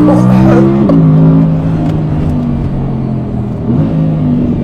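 A new Audi R8 V10 sports car roars loudly, its engine note rising and falling through revs and gear shifts, close and dominant throughout.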